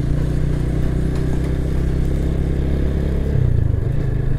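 A Loncin GP 16 motorcycle being ridden gives a steady, close, loud engine drone throughout, with a slight shift in engine note near the end and no talk.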